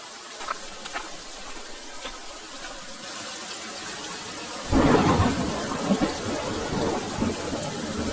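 Steady rain hisses throughout in a Bengali animated cartoon, then a deep rumble of thunder rolls in midway and lingers beneath the downpour.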